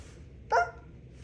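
A single short dog bark, fairly clear and alone over a low steady background hum, with no talking.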